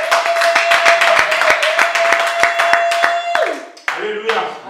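Congregation in a church clapping together in a steady, loud rhythm with a sustained tone and voices over it, the claps ending near the close amid continued singing or shouting.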